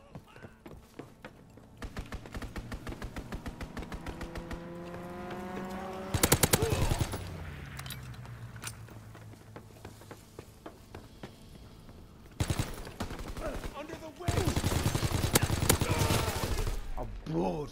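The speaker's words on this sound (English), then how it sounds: "Strafing run inbound." Machine gun fire from an aerial strafing run in Call of Duty WW2, with rapid shots, a rising engine whine and loud sustained bursts near the end, mixed with game voices and other battle noise.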